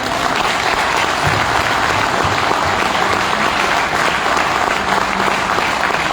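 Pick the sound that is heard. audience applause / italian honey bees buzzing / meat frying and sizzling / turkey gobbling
audience applause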